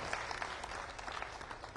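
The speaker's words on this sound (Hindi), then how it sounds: "आप जोरदार तालियां बजाकर आप करिए" A crowd applauds steadily throughout, a dense, even patter of many hands clapping with no voices on top, heard from within the audience.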